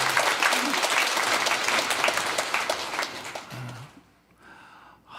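Church congregation during a Sunday worship service clapping loudly together for several seconds before the applause fades out, with a voice breaking through briefly near the end.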